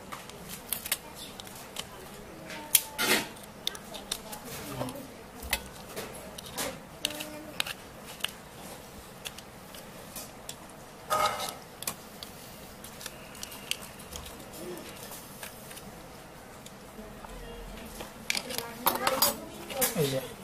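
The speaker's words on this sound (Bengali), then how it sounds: "এটা একটা চামচ দিয়ে বের করে নিব।" Metal spoon scraping and clinking against a crab shell while scooping out the crab brain in a kitchen, a run of small irregular scrapes and taps, close and fairly quiet.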